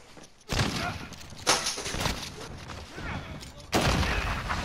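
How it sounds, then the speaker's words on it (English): Rapid gunfire from a first-person shooter video game crackles in loud, sharp bursts at an enemy, with a player talking over the shots. "I'm gonna shoot him!"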